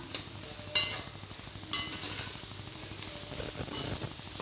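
Masala being stirred into veg egg noodles in a pan, a steady scraping and stirring rhythm over a soft continuous sizzle, with a couple of sharper utensil clinks near the start, close and moderately loud, no voices.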